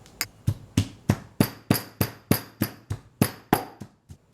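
Garlic and lemongrass are pounded in a mortar, about fourteen sharp, evenly spaced thuds with a steady rhythm, close and clear with nothing else heard.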